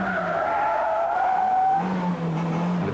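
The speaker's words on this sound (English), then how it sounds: "he should start to spin the car, as he does" Tires on a racing car squeal in a long, loud, wavering screech as the car spins, then the engine note rises as power comes back on, heard close and alone.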